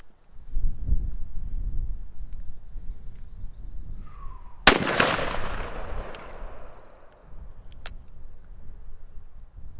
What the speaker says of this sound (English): I'm shooting the berm.